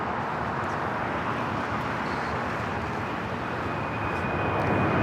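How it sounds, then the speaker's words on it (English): An ABX Air converted Boeing 767 freighter takes off at Los Angeles International Airport, a loud, sustained broadband jet roar that holds steady throughout, with a faint rising whine near the end. "ABX Air, the converted 767 taking off, heading to Cincinnati."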